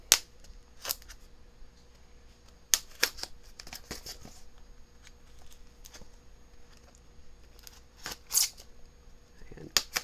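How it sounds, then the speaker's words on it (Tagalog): Scissors cut open a parcel from an online shopping haul: a scatter of sharp, crisp snips and clicks spread over ten seconds, with quieter handling noise between them. "Nagdala na ako dito ng gunting para paggupit."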